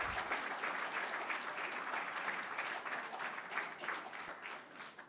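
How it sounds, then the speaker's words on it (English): Audience applause at a school governing board meeting, steady clapping from a room full of people lasting several seconds, moderately distant and fading slightly at the end. "a round of applause for Surprise"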